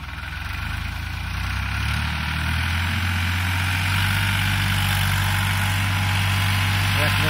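A New Holland 3630 tractor engine idles and runs steadily close by, a loud continuous low rumble with a constant throb that holds even and unstrained throughout, with a voice talking over it.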